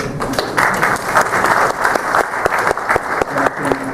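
An audience applauds steadily after a CRM keynote at a business conference in Berlin, a dense patter of many hands clapping throughout, with a voice faintly audible underneath.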